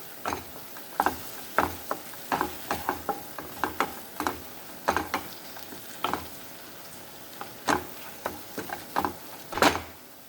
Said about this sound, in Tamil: இது எல்லாம் சேர்த்து நல்லா கலந்து விட்டுக்கோங்க